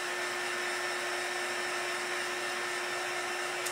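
A dryer blows steadily to dry a fresh coat of paint on a thrifted tin, its even airy whir holding constant and alone throughout.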